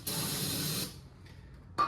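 Aerosol carb cleaner sprayed into an ATV air intake under the seat: a steady, close hiss for most of a second, then a quiet pause and a brief second burst near the end, with no talking.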